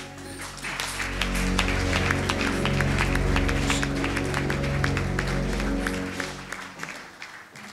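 A church congregation applauding in praise of the Lord, steady sustained clapping from a large crowd over a held musical tone, tapering off near the end.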